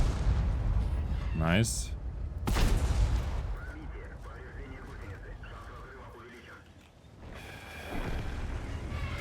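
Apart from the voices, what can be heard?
tank gun shots in the video game World of Tanks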